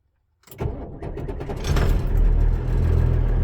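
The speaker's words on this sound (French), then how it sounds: "premier démarrage du matin" A truck's engine starting on the first morning start, cranking and catching before settling into a loud, steady idle that builds slightly in strength, close and without talking.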